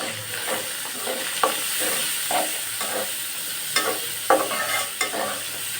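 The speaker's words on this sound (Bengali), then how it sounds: "আমার পেঁয়াজটা ভাজা হয়ে গেছে" Chopped onions with garlic paste fry and sizzle in a pan after prawns were fried, with a steady hiss broken by repeated clinks and scrapes of stirring.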